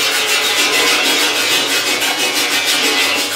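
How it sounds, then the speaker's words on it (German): Steady, continuous bristly rasping of a wire brush scrubbing old paint and rust off metal, close and loud with no pauses or voices. "hier mit der Drahtbürste."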